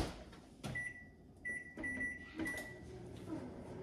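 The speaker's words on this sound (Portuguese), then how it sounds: "E eu cozinho no micro-ondas, porque eu já sei, já me acostumei com o meu micro-ondas aqui" A microwave oven cooks oats, its door or panel clicking and sharp electronic beeps sounding several times over a low steady hum, fairly quiet and close, with no talking.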